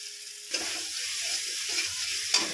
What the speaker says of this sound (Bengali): খুব সুন্দরভাবে সবজিগুলো কষানো হয়ে গেছে